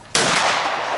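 A single loud gunshot while hunting boar and roe deer, a sharp blast followed by a sustained rolling echo.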